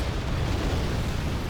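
A nuke cannon blast from a competitive video game match gives a dense, loud, rumbling explosion that roars continuously for the whole short moment.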